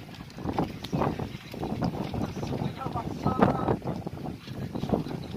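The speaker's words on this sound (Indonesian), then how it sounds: "ngeri anginnya nih, pengendali." Strong gusting wind from a whirlwind in Indonesia buffets the microphone in loud, rough, continuous surges, with voices talking underneath the roar.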